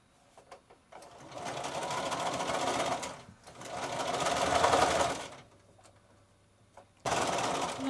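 A sewing machine sews piping around the edge of a cushion in three steady whirring runs separated by brief pauses, with small clicks and a low hum between them.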